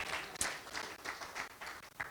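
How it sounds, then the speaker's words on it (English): A crowd at a church dinner claps together in a steady, rhythmic pattern of loud, sharp bursts that continue throughout. "give the Lord a clap for her"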